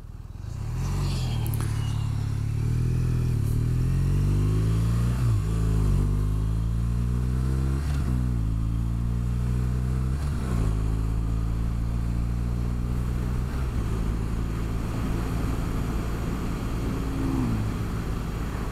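A BMW R1200RT motorcycle cruises along back roads, its engine droning loud and steady with rising and falling tones as it shifts through gears, under constant wind rush.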